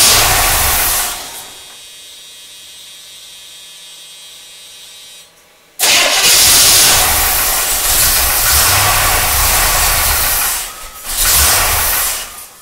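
A 1976 Chevrolet Corvette C3 that had sat unused since 2004 cranks over with a droning whir, then catches and runs loudly with a rough, hissing roar from about midway, dipping briefly near the end.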